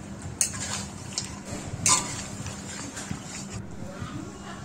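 A bual fish head being fried and stirred in spice paste in a pan: a low steady sizzle with a few sharp metallic clinks and scrapes of the utensil, one louder clatter near the middle.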